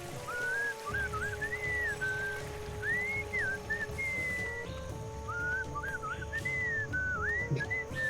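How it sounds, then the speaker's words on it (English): A melodic whistled tune in the Sam and Max video game: clear, wavering notes in short phrases, played over a soft steady background hum with no talking. "What is that enchanting whistling sound?"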